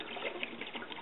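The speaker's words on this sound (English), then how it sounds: "You'll see carbon dioxide now freely bubbling on the inside" Carbon dioxide bubbling through water inside a home draft keg, a steady fizzing, gurgling wash with small bursts throughout, close and moderately quiet.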